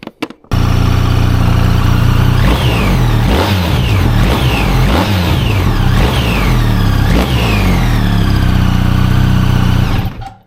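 A BMW R1300GS motorcycle with a DNA Stage 2 air filter intake revs up several times in close succession, each blip climbing and dropping back to a steady idle, loud and close without talk.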